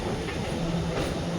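A KSR Bengaluru–Hassan DEMU express train runs along the rails with a steady, low rolling rumble and a faint rhythmic wheel clatter, heard from on board without voices.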